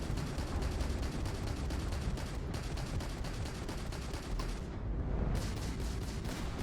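Dense, continuous gunfire in Starfield with rapid repeated shots and booming impacts, loud and sustained throughout with no pauses.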